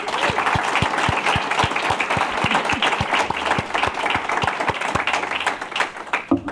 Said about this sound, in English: Let's give Seohyun another round of applause.